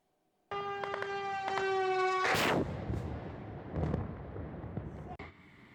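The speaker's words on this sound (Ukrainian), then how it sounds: "Розстріли, гул безпілотника та, врешті, вибух" Gunfire bangs over the droning harmonic hum of a military drone, then a loud explosive blast, followed by a rumbling aftermath and further scattered bangs.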